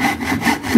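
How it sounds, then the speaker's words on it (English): A Western back saw cross cutting a piece of wood, a short burst of rasping strokes close up with no talk. "now let's compare this to the cross cut of a Western saw"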